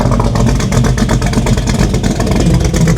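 A 500hp 1987 Chevy Monte Carlo SS V8 idles loud and close, a rough, steady, lopey throb with a loose tailpipe, continuous with no talking.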